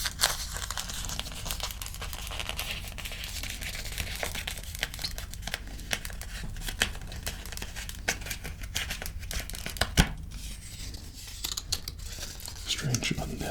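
Paper packaging for an iPhone 13 Pro Max crinkles and tears continuously at close range, with sharp crackles and rustles throughout and a few louder snaps, set against soft background noise and no talking.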